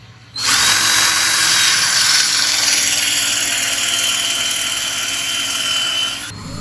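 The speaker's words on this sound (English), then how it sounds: "We're using a small Forstner bit here that has a similar diameter with the diameter of the plugs we cut." A power drill fitted with a small Forstner bit bores plug holes in wood for a monitor stand. It kicks in abruptly with a loud, steady whine, holds for about six seconds, then cuts off.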